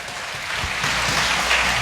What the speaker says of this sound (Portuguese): Se você crê nisso, dê uma salva de palmas para o Senhor Jesus.